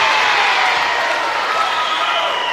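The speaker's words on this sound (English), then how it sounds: "Every home game, these guys are down here cheering these girls on" A crowd cheers at a high school volleyball match between the Piketon Redstreaks and the Eastern-Pike Eagles, producing a steady, dense roar of voices that holds at full level throughout without a break.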